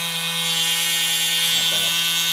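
A 24-volt brushless oscillating tool runs at speed setting 1, giving a steady, continuous motor hum and buzz close by without talking.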